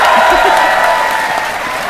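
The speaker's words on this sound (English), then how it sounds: "Everyone, cheer him on." Crowd at a PAX West 2016 Final Fantasy XV gameplay demo cheers and claps steadily throughout, a dense, loud wash of applause with voices mixed in.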